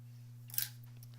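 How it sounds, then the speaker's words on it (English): Scissors snip quilting threads once, a short crisp cut rising briefly over a steady low electrical hum in an otherwise quiet room. "All right, let's snip both of those."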